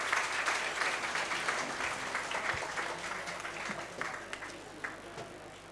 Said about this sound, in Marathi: कृपया टाळ्यांचा आवाज थोडासा कमी पडतोय